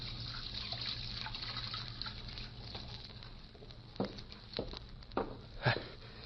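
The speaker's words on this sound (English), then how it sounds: "Then I went over to the washstand and started to wash." A radio drama sound effect of water running at a washstand, a steady faint trickle and splash with occasional louder splashes as hands move through the water, and no talking.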